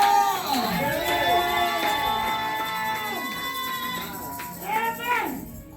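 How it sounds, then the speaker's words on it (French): A church congregation cheers and acclaims together in a loud, dense crowd roar with shouting voices rising and falling and swelling again near the end. "Acclame et célèbre comme quelqu'un qui a reçu."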